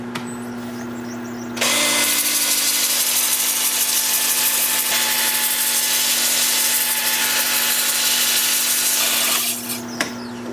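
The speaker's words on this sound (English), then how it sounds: "And I think it's time for sanding." A loud, steady abrasive hiss of 80-grit sanding against an alder platter spinning on a lathe runs for several seconds under a constant motor hum, then stops abruptly.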